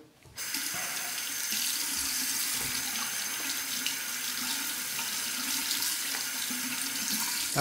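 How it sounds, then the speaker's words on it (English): Cold water runs steadily from a tap to rinse a straight razor blade during a shave: a continuous, close, even splashing hiss that starts abruptly and carries on alone without pause. "just rinsing the blade with cold water"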